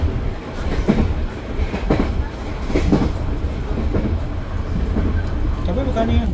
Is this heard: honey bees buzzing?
no